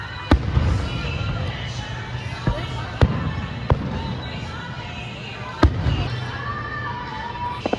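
Fireworks at the Kings Island amusement park: sharp booms and crackles burst at irregular intervals over a steady crowd murmur, with people talking nearby.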